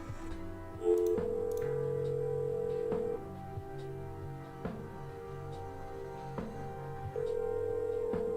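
A telephone rings in a room during a game of Magic: The Gathering, repeated electronic tones recurring at intervals amid faint ticking and clicks, fairly quiet with no talk.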